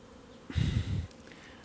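Honey bees at an apiary swell into a brief, loud, low buzzing drone that lasts about half a second, close up, then fades to quiet background.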